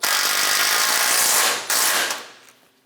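Top bolts on a Chevrolet Express pitman arm are snugged down, giving a close, loud burst of power-tool whirring and ratcheting that runs about two seconds, breaks briefly and then trails off.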